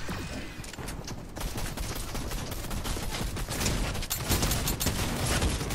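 Rapid, dense gunfire with sharper sniper cracks in a Team Rumble shooter game match, a loud continuous barrage of overlapping shots and impacts without pause.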